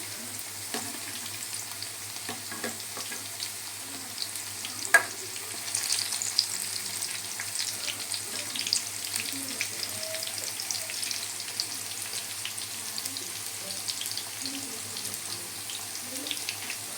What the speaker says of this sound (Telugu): గోల్డెన్ బ్రౌన్ కలర్ వచ్చేంత వరకు ఫ్రై చేసుకోవాలండి